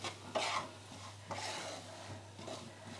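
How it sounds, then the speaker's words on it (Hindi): Salted peanuts being dry-roasted and stirred in a pan on a low-medium gas flame, giving soft, quiet scraping and rattling strokes that come in a few separated bursts against a low steady hum. "ये जैसे जैसे भूनता जाएगा वैसे वैसे नमक इससे मूंगफली से अलग होता जाएगा"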